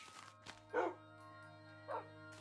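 A dog in the Minecraft video game gives two short barks spaced about a second apart, set against a steady tonal game background hum.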